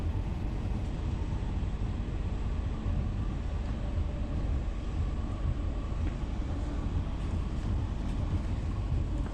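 Steady low rumble of a train travelling on the railway line between Godley and Hattersley, a continuous droning roar heard from on board with no voices.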